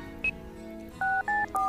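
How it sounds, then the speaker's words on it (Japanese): A phone number is dialed in the video game Tokimeki Memorial 2, a series of short electronic keypad tones, one then three in quick succession, clean and close with no talk. "ここで、匠に電話して、"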